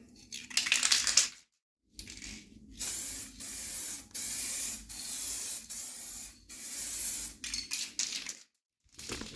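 A U-Pol spray gun coats the bodywork of an old Mopar car, giving loud, close bursts of hissing spray in repeated passes separated by brief silences, with no talking.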